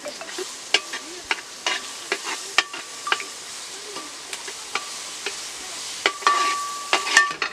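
Small shallots and onions sauté in a pan, a quiet sizzle broken by repeated sharp scraping clicks of a spoon stirring against the metal at an uneven rhythm.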